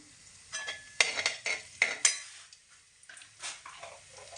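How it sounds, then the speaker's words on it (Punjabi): Cumin seeds roast in hot ghee in a pan: a soft sizzle runs underneath while a spoon scrapes and clinks against the pan in several short, close strokes. "ਇਹਦੇ ਵਿੱਚ ਆਪਾਂ ਪਾ ਲੈਨੇ ਆ ਜੀਰਾ ਜੀਰੇ ਨੂੰ ਆਪਾਂ ਚੰਗੀ ਤਰ੍ਹਾਂ ਭੁੰਨ ਲੈਨੇ ਆ"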